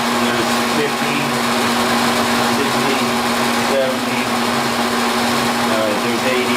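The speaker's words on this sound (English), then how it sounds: "We can change this out to a smooth flute end mill to give a nice smooth finish versus the turbo finish" A milling machine cuts steel with a smooth flute end mill, a steady high-pitched whir and grind running continuously and loud up close, with a constant motor hum underneath and no pauses.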